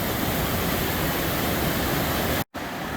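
Water rushes down mountain cascades in Rocky Mountain National Park, a dense, steady roar that fills the whole sound, loud and close, broken only by a split-second dropout near the end.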